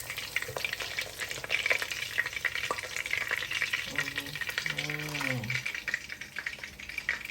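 Ground beef fries in oil with a steady broadband sizzle and crackle throughout, joined near the end by a brief low voice-like tone.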